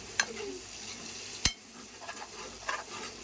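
Ginger paste frying in oil in a kadai, a faint, steady sizzle with a few sharp clinks of a spoon against the pan.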